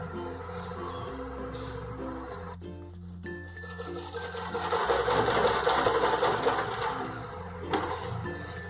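A tailoring sewing machine stitching fabric pieces, starting as a steady low mechanical hum, then a short pause and a louder, busier whir of stitching that runs to the end.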